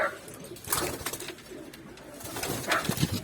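Tumbler pigeons kept in a coop coo softly from close by in short, soft, repeated phrases over a low murmur of birds, with no talk.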